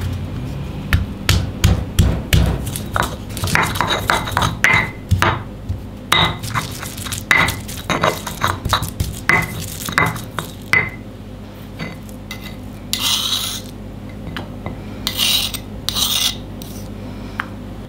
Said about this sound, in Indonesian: Ada 2 siung bawang putih dan ebi kita ulek.